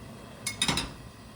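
A frying pan being picked up and set down in a home kitchen, a few quick faint metallic clinks and a soft clatter in close succession, with no talking.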